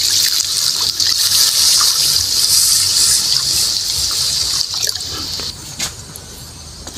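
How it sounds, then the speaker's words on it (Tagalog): Water poured into a cooking pot of home-style Filipino food that was just frying in oil, a steady broadband trickle and gush running close and loud for several seconds before tapering off, with no talk. "Tubig."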